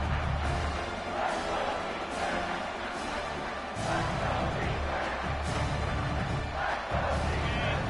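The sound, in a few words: stadium crowd cheering in NCAA football video game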